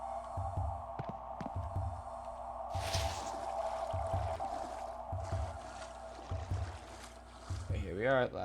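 Coolant drains out of a flooded basement after a valve is opened in a video game, a steady rushing pour of liquid under a rhythmic low machine throb, with a voice speaking over it.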